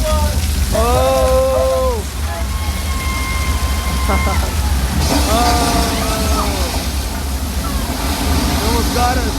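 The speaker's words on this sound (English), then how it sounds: "Keep looking on your left for the rain. Ooh, oh no. Too much rain. It's a flash flood." A simulated flash flood on the Universal Studios Hollywood tour at night: heavy rain and rushing water hiss loudly and continuously, with excited voices and shouts over it.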